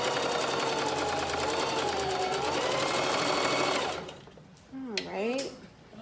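A sewing machine runs steadily, stitching fabric with a fast, even mechanical whir for about four seconds, then stops, followed by a brief voice.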